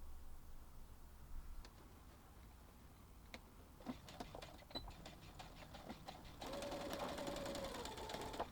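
A sewing machine runs in short bursts then a steadier stretch while stitching along the edge of a fabric tote bag, with quiet clicks and a faint whirring motor, fairly soft and close.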